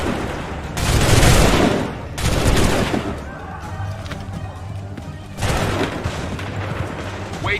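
Musket volleys in the Assassin's Creed III video game: several loud, close bursts of massed gunfire crack out in waves, each swelling and fading into rumbling smoke-filled din, with battlefield noise in between.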